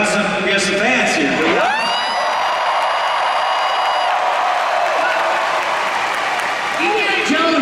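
A large audience cheers, whoops and applauds at the D23 Disney Experiences Showcase, a sustained roar rising and falling, with people talking over it near the start and end.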